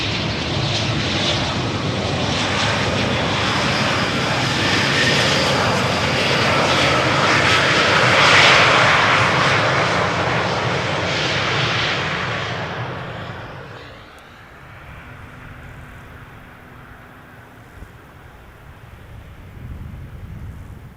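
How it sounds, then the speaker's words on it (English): An Embraer 190 jet airliner arriving at Amsterdam Schiphol on a sunny day. It roars loud and close for about fourteen seconds, then drops away to a faint distant rumble. No one speaks. "Another Embraer 190."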